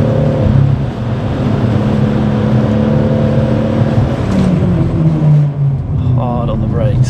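A hybrid-turbo BMW M140i runs flat out on the Nürburgring, with a loud, sustained engine drone and shifting pitch throughout, ending in a brief change of tone near the close. Faint talk may sit underneath.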